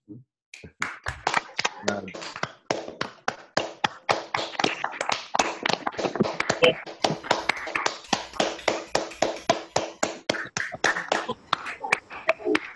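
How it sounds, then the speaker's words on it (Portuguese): Steady rapid clapping from a small group after Flávio Rocha's talk, sharp claps and taps close to the microphone over open mics, with some talking mixed in. "abrir os microfones, uma salva de palmas para o Flávio"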